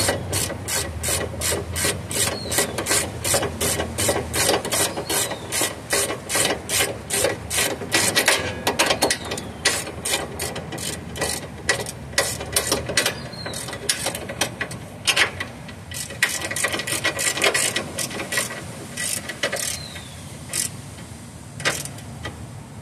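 A ratchet wrench tightens the front sway bar link on a 2003-2006 Honda Element, a long run of rapid, loud clicking pawl strokes in uneven bursts with brief pauses, close up and without talk.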